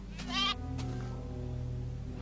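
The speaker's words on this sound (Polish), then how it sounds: "Tu mnie gdzieś koza goniła." A single short goat bleat from a Minecraft (TechnicCraft) game, loud and close near the start, followed by a low steady hum of game sound.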